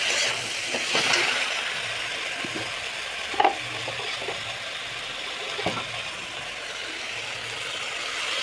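Onion-garlic paste with salt and spices fries in a pan for a prawn curry with elephant foot yam, potato and brinjal, giving a steady, fairly faint sizzling hiss broken by a few scattered scrapes.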